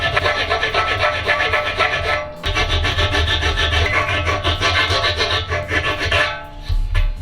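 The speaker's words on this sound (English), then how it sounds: "So I'm just going to file it down a little bit." A hand file rasps back and forth across an aluminum surface, cleaning off oxidation before welding with Harbor Freight aluminum welding rods. Steady, close, loud scraping strokes with a short pause partway through.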